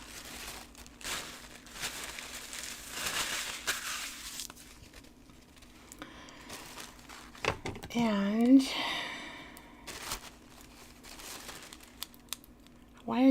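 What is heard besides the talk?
crinkling thin one-ply paper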